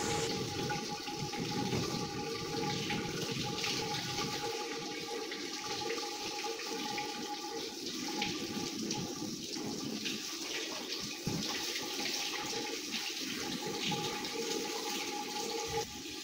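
Water pours steadily over a deceased person's body during ritual washing, a continuous close splashing and rushing stream with no clear pauses.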